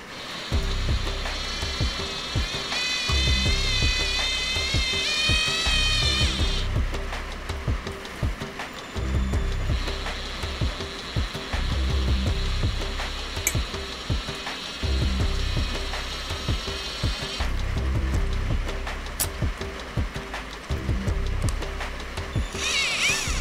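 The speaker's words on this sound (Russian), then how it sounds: "Зажимаю шуруповерт и произвожу намотку." A cordless screwdriver winds steel wire into a tight spiral for a homemade carp feeder rig, its whirring motor and ratcheting clutch running in long steady bursts with brief pauses, close and fairly loud.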